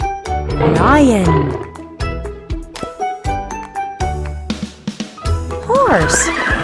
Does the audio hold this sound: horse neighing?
yes